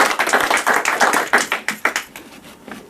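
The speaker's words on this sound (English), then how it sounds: "Let's give it an applause." Audience applause at an entrepreneurship talk, a fairly small group clapping in distinct sharp claps that thin out and fade toward the end, with no talk over it.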